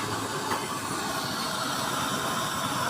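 A used-oil stove burner with a blue flame roars steadily and loudly up close, a dense broadband rush with a faint hiss and no talk over it.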